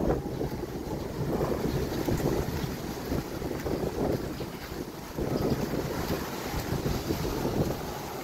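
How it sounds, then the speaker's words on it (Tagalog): Strong ocean waves churn and surge in rolling swells at Butong, Taal, Batangas, heavily buffeted by wind gusting against the microphone, with no voices. "Malakas ang alon."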